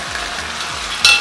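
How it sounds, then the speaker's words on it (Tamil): Onions and tomatoes frying in a pan for a Salem-style pepper egg gravy give a steady, close sizzle throughout, with a brighter burst of hiss near the end as something is added. "இப்போ வெங்காயம் வணங்கிடுச்சு அதுக்கப்புறம் நம்ம தக்காளி ஆட் பண்ணிக்கலாம்"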